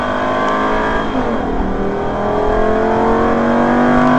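Superleggera car accelerating hard on the Hampton Downs circuit, recorded in-car: a loud, continuous engine roar with rising pitch through the gears, steady and close throughout.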